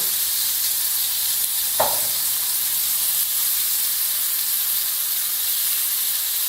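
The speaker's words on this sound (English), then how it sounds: "And we're just going to let that steak sizzle" A steady, hissing sizzle of steak searing in a hot pan continues throughout, with one brief clunk near the start.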